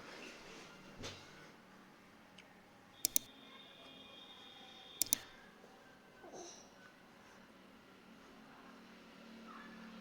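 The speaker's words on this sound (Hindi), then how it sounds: "ऐड डॉक्यूमेंट पर क्लिक करके" Mouse clicks while uploading documents for an online PAN card application on a computer: two sharp double clicks about two seconds apart, close and fairly quiet against low room hum, no talking.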